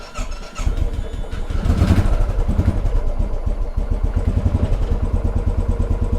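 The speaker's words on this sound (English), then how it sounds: "So the bike started right up," Used fuel-injected motorcycle engine starting cold, a brief crank and catch, then a loud, close idle with a steady pulsing thump.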